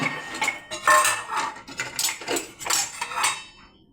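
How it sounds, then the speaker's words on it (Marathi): A metal spoon clinks and scrapes against a dish while milk is stirred into a homemade cake mix, giving quick, close, irregular clatters with no talk. "आणि देन मग आपण घेऊया चमचा."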